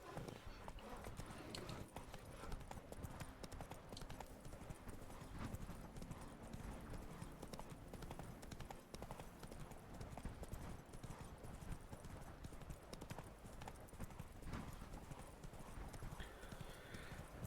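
Hooves of Roach, Geralt's horse in The Witcher 3: Wild Hunt, clip-clop steadily and continuously at close range in Toussaint, with occasional faint voice and game ambience mixed in.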